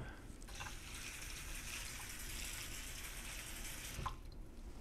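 Faint, steady trickle of water being poured to fill a small pond inside a houseplant pot, a soft continuous splashing flow heard alone.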